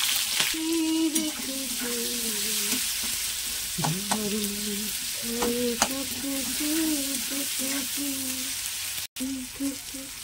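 Chopped tomato, whole cloves and a bay leaf fry in a pan with a steady, close sizzle and some stirring. A melodic, voice-like tone wavers over the frying throughout.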